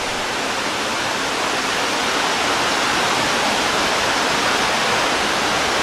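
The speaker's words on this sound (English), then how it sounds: "Let's hear the sound of that waterfall below us." Waterfall below a covered bridge in Pennsylvania roars as a loud, steady broadband rush, constant throughout with no other sounds.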